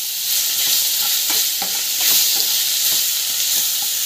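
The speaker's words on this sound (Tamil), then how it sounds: "ஸோ பெருங்காயம் வந்து ஆட் பண்ணலாம். ஸோ நல்லா வந்து வதக்கிக்கலாம்." A pan of potato and spices sautés with asafoetida, with a bright, hissing sizzle and soft intermittent clicks from a stirring utensil, close and continuous.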